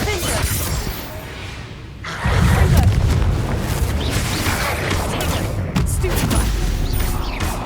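A Confringo blasting spell in Hogwarts Legacy bursts into a loud, rumbling explosion with scattered debris crackling, followed by sustained booming combat noise that stays dense and close.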